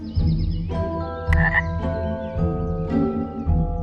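Frogs croaking in a marsh, a steady chorus of repeated croaks and trills layered together, fairly close and continuous throughout.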